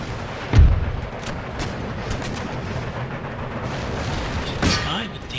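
Artillery cannons firing in Empire: Total War: a deep thump near the start and another heavy report near the end, over a steady battlefield din with faint voices.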